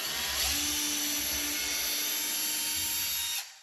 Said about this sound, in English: So the pilot hole for the small drill bit is critical